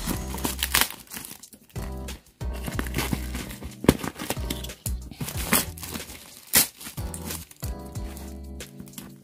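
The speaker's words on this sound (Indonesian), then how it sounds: "Oke, kita unboxing dulu. Paket dari Indonesia." A parcel shipped from Indonesia to Korea is unboxed up close, with bursts of plastic packaging crinkling and tearing, intermittent rustles and handling thumps in an irregular rhythm, and no speech.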